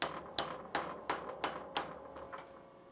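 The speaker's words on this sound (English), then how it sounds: "So I'm going to hold the dowel rod on here and drive it in with a kinetic bullet puller" Six sharp, evenly spaced taps ring out as a kinetic bullet puller drives a dowel rod into a gun barrel for slugging, followed by a couple of fainter knocks, all close and isolated.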